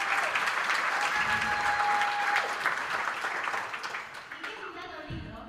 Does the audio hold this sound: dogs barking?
no